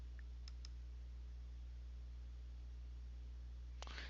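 Faint, crisp computer mouse clicks, a couple of quick taps early and another single click near the end, over a steady low electrical hum.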